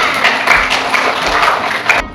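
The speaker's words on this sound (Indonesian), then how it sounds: "silakan beri tepuk tangan kepada temannya" A classroom of students claps for a classmate, a steady patter of many hands at close range, fairly loud and without speech.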